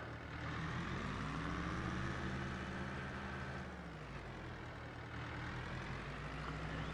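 A heavy engine idles steadily at close range, a low continuous rumble with a slight dip in pitch partway through.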